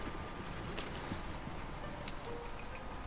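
Horse hooves clip-clop steadily during riding in Red Dead Redemption 2, a quiet rhythmic clopping under a soft ambient game backdrop with a few faint sharper ticks.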